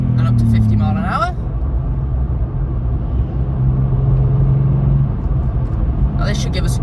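VW Up! GTI on KW V1 coilovers accelerating hard up to about 6,000 rpm on a winding B road, a loud steady engine and road rumble inside the car, with someone talking over it at the start and end.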